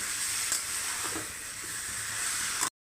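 Marinated chicken sizzles steadily in a kadhai for a biryani, a continuous bright frying hiss that holds at an even level until it cuts off abruptly near the end.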